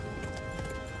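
A horse gallops in the video game Kingdom Come: Deliverance, with rapid, steady hoofbeats close by over a dense layer of game sound.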